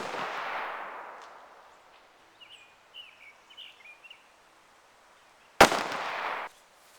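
A single sharp gunshot from a DoubleTap derringer pistol fired at a target 10 yards away, a sudden loud crack with a short ringing tail, preceded by a fading rush and faint bird chirps.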